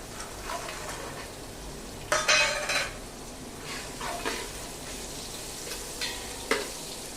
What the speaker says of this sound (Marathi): हे छान पनीर थोडंसं सॉफ्ट होईपर्यंत परतून घ्यायचं.